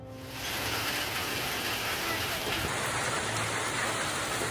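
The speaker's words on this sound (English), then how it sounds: "A hailstorm tore through southeast Queensland, the result of intense convection" Hail pours down in a dense, steady hiss of countless small impacts during a southeast Queensland hailstorm, rising quickly and staying loud and unbroken throughout.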